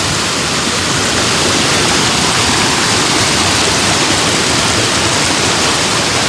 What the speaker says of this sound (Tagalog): lakas ng lakas ng agos kasi umulan